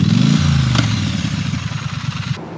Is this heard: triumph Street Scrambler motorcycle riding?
yes